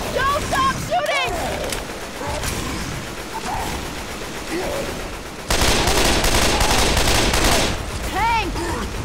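Rapid automatic gunfire in Left 4 Dead 2 rattles on continuously under frantic shouting, growing louder and denser in the second half.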